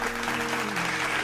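A soul clap from a small group in a casual wine-tasting review show, brief, dense clapping heard close, with a voice audible underneath.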